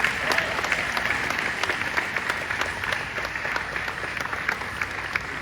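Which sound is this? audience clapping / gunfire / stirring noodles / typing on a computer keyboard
audience clapping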